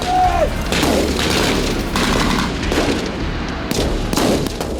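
Gunfire in war footage from Ukraine, heard as dense, continuous loud bursts with booming low rumble throughout, sharper cracks standing out at intervals.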